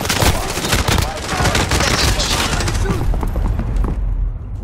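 Dense rapid gunfire from Call of Duty: Modern Warfare, including an MP5, rattles loud and close in continuous bursts, with a voice talking over the shooting.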